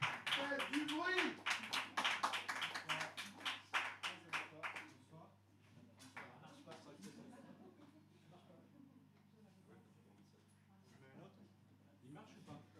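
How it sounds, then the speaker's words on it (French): Audience clapping at a slam poetry stage night in Nice greets a performer walking up, loud rapid claps at first that thin out into scattered, quieter claps over a low hum. "on vous demande d'applaudir très fort à la montée"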